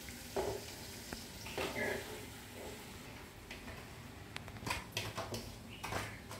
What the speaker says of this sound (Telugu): ఇవి బొరుగులన్నీ దీంట్లోకి వేసేద్దామండి